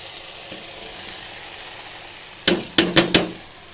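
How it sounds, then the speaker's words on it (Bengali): Rice goes into a hot pan with lentils and is stirred, giving a soft steady sizzle and then four sharp spoon-on-pan scrapes and clanks close by near the end. "না এবার আমি চাল দিয়ে দিচ্ছি"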